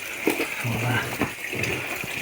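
Coolant drains out of a Ford Escort Cosworth in a quiet, splashing trickle with a few gurgling gushes, close and fairly faint, with brief low voice murmurs in the background.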